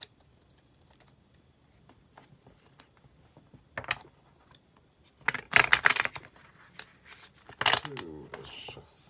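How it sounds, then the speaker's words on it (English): Bursts of rapid card riffling and flicking, three main shuffles separated by pauses, close and crisp against a quiet background. "we are going to go ahead and shuffle now your minor arcanas"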